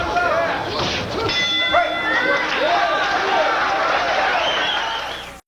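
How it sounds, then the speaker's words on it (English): At a 1986 boxing match, the ring bell clangs for the start of round two, ringing several times amid crowd noise and an announcer's voice. "There's the bell for round 2."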